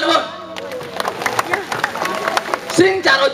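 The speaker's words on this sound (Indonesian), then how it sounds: "Tepuk tangan, Bang." Audience applause breaks out in scattered, uneven claps that swell toward the end, with voices talking over the clapping.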